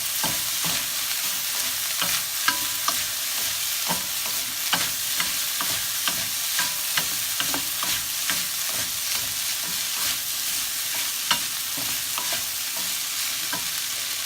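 Goose curry with rice, chillies and coriander is stirred in a hot pan, a steady dense sizzle broken by frequent close scraping strokes of the spoon, with no talking.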